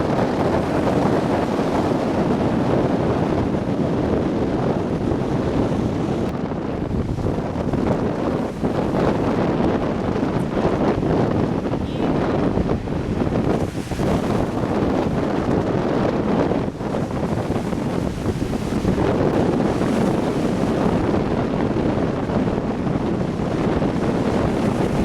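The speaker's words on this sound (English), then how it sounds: "The water's chasing me up the beach." Waves wash and surge along a beach while strong wind buffets the microphone, a loud, continuous roar with no voices, in Fitzgerald River National Park.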